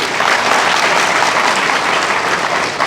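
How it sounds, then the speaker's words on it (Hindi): Audience at a Hindi talk gives dense, loud, continuous clapping that fills the room evenly from start to finish, with no voices on top. "ताली बजाइए माननीय जज साहब के लिए"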